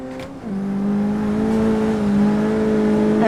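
A Daihatsu Copen races in Assetto Corsa, its engine droning at a steady high pitch that dips briefly with a gear change and then holds on, loud and close, with no voices over it.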